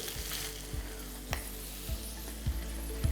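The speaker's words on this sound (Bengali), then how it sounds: "এবার এটাকে ভালো করে ভেজে নিই চানাডালটা ভাজার সময় দেখবেন খুব সুন্দর একটা গন্ধ বেরোবে" Chana dal (split chickpeas) fries in a pan for chana dal pulao, a soft steady sizzle punctuated by a few light taps and stirring knocks.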